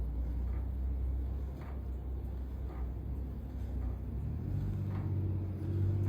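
A potter's wheel labouring under a heavy load of wild clay while a very large terracotta flowerpot is pulled up, giving a steady low rumbling groan that holds throughout.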